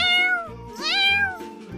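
Cartoon kittens give several high, bending meows in quick succession, loud and close, with no speech over them.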